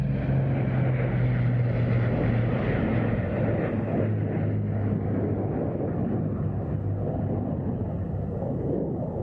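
A formation of aircraft, the Gibson formation, running in at the Duxford air show, giving a loud, steady propeller drone that stays close and full throughout, easing very slightly in strength toward the end.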